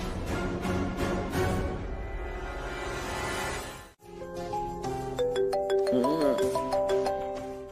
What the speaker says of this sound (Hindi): यार ये फोन क्यों बजते हैं?